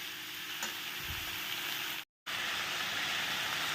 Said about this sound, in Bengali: তো এটাকে ভালো করে এবার নাড়তে হবে, নাড়তে নাড়তেই দেখবে কতটা জল উঠে গেছে।